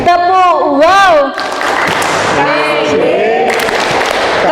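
A classroom group of teachers or students claps together in a short ice-breaker routine, with loud clapping bursts mixed with chanting voices and cheers.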